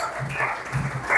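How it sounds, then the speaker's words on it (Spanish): Audience applause for a teacher at an intercollegiate debate tournament, a short burst of clapping in a hall with faint voices underneath. "Fuerte aplauso, por favor."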